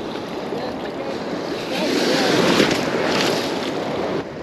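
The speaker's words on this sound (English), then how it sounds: "I'm getting destroyed by these waves." Ocean surf crashes and washes along a fishing beach, a loud continuous roar that swells midway, with wind buffeting the microphone and no speech.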